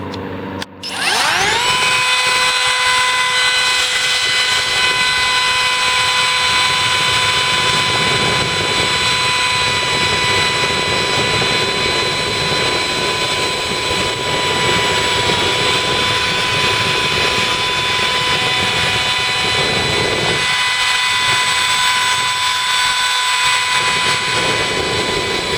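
Kobalt 24V MAX brushless cordless router, model KR 124B-03, spinning up and cutting steadily for the whole stretch, a loud close high-pitched motor whine with a strong steady tone and grinding cut noise, briefly dipping near the end.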